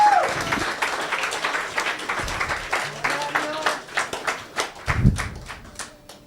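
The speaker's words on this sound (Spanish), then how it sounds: "Le dan un aplauso, Señor" A church congregation breaks into applause during a worship service, scattered claps building into steady clapping, with a voice speaking over it at first.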